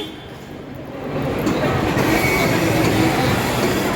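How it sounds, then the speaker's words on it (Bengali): A train pulls out of a station, its rumble swelling from moderate to loud after the first second into a steady rolling clatter of wheels on rails with some squeal. "ট্রেন ছেড়ে দিল চলে গেল"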